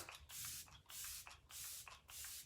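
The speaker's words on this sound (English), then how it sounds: "we're gonna go in with finishing spray" Makeup finishing setting spray sprayed in three quick, fairly loud hissing bursts with short pauses between, close to the microphone and with no talking.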